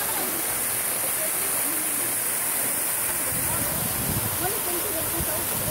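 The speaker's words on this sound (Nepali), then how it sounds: "यो एन गद्दीको झारना डेभिड फल्स भन्दा छ" David Falls at Ein Gedi, Israel, a steady rushing hiss of falling water close by that stays broadband and unbroken throughout, with a faint voice in the background.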